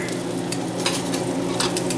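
An egg fries in a cast iron pan on a ceramic stove top, giving a steady close sizzle with faint crackles and a light scrape of stirring throughout.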